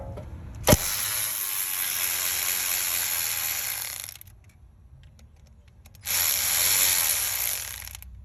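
Ratcheting on a bolt of a 2014 BMW 528i 2.0L rear brake caliper, a close, loud, steady burst of rapid mechanical clicking for about four seconds after a sharp knock, a pause, then a second shorter burst.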